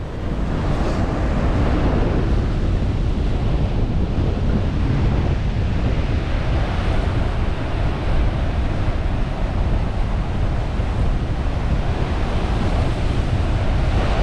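Rough, dirty sea waves churned up by strong 30 mph south-westerly winds, a loud, continuous roar of surf and wash with heavy wind buffeting the microphone throughout, no voices.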